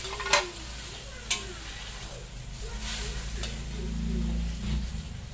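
Tofu sizzles steadily in a hot pan for an adobong kangkong dish, with a few sharp utensil clicks against the pan and a low hum of stirring and frying throughout, close and fairly quiet.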